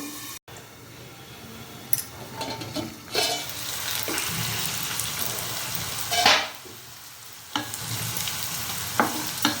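Cauliflower fries in a pan with a constant close sizzle, broken by intermittent stirring scrapes and louder bursts as the pieces are turned.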